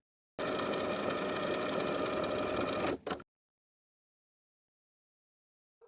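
A sewing machine stitches the finishing hem around a dress sleeve, running steadily and fairly loud for about two and a half seconds before stopping abruptly, with a brief second burst at the end and then silence.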